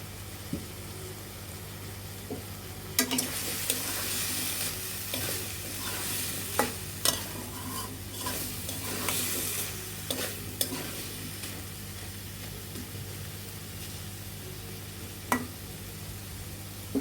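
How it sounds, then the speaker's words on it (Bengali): Spices and sweet pumpkin pieces sautéed with sugar in a pan, a quiet continuous frying sizzle broken by repeated scraping and clacking strokes of a spatula turning the pieces, with no talking. "এখন ভালোভাবে মশলাগুলো কষে নিতে হবে"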